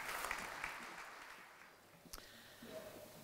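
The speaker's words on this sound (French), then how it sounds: "Je vous propose de l'applaudir." Applause from an audience at a French-language welcome reception for a town mayor in Thoin, a fading wash of clapping that starts fairly full and thins out, fairly distant and soft, with a sharp knock and some faint room noise near the end.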